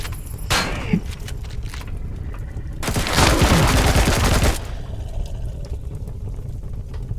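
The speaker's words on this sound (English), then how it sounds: "let's do it with a shotgun instead." Shotgun fire in the video game Empyrion Reforged Eden 2: a sharp blast near the start, then a loud, dense burst of gunfire lasting over a second, over a low steady game background.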